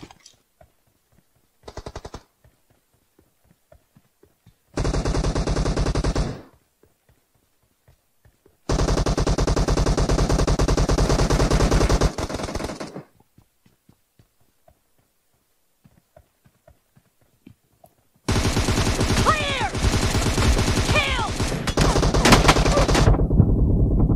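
Gunfire from the mobile shooter game PUBG Mobile comes in several loud bursts of rapid automatic fire, with a few isolated single shots and clean silent gaps between the bursts.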